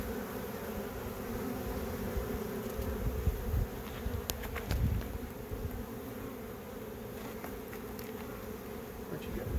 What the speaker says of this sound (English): under this knot of bees